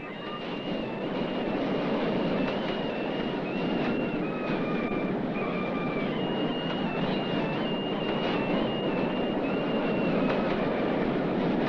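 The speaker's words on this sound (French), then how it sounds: "Bombay a ses trains de banlieue qui transportent matin et soir une foule de travailleurs" A Bombay suburban commuter train rumbles along with a steady, loud roar and faint screeching wheel tones, running continuously throughout.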